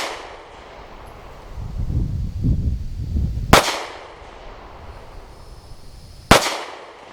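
Two sharp, loud Sig P365 Fuse pistol shots fired with duty ammunition, a few seconds apart, standing out clearly over a low rumble of background noise.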